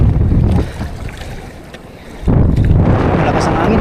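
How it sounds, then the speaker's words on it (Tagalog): Strong wind buffets a small fishing boat at sea, a loud roaring rush against the microphone that eases briefly, then surges back with water wash, a voice speaking faintly under it. "Malakas ang hangin."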